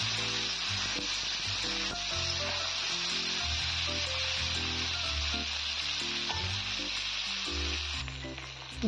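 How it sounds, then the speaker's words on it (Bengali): Potatoes and drumsticks frying in a pan with cumin for a Bengali katla fish curry, a steady loud sizzle with repeated scraping and clinking stirs throughout. "জিরাটা কালার আসার পরে আমি কিন্তু আলু আর সজনেটা দিয়ে দিলাম। সুন্দর করে নেড়ে চেড়ে নেব।"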